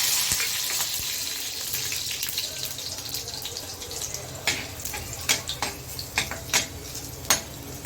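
Mustard seeds, cumin, garlic and curry leaves frying in a pan of hot oil, a steady sizzle with sharp crackles and pops that come more often toward the end.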